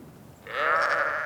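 A Merino sheep gives a single loud, close bleat lasting under a second, rising out of quiet outdoor background noise.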